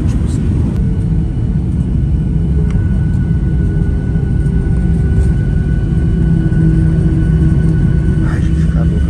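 Airliner cabin during a rough, bumpy landing in a storm, a loud steady low engine and airframe roar filling the whole stretch with faint rattles, heard from inside the plane.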